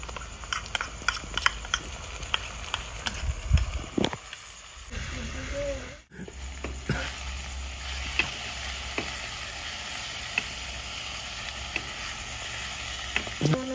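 Ginger garlic paste sizzling in hot oil for a restaurant-style paneer chana masala, a steady close crackle and hiss with stirring clatter, a short dip midway, and a voice speaking at moments over it.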